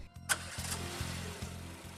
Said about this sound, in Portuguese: Funcione o motor.